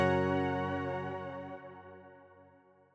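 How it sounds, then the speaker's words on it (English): Luminous Tines electric-piano style keys synth preset in Logic: a single bright, bell-like chord struck once and left to ring, its shimmering tone decaying smoothly over about three seconds, alone. "we can find a preset called Luminous Tines, which sounds like this"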